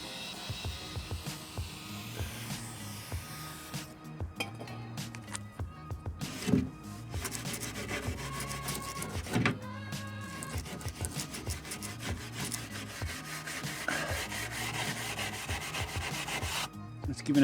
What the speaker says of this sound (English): Just giving it a good clean out with the wire brush to make sure there's no debris in there